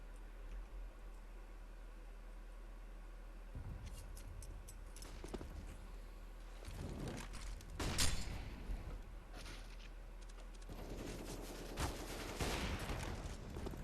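Gunfire during a competitive CS:GO match, quiet and distant bursts and single shots scattered across the round, with a heavier cluster midway and more shots near the end.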